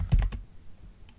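Quick keyboard shortcut presses in FL Studio music software, three close clicks in rapid succession followed by a fainter single tap, heard alone and near.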